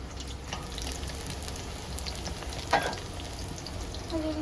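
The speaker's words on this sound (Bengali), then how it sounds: "আর এই যে পাকোড়া ভাজছে" Pakoras fry in hot oil with a soft, continuous sizzle in a home kitchen, joined by faint water running and a brief clink of utensils partway through.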